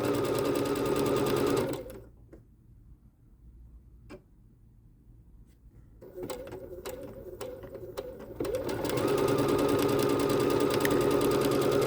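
A Bernette B-77 sewing machine runs stitch 132, a fast decorative stitch: a steady, close mechanical whir that drops to near silence with scattered clicks, then resumes at full, continuous speed.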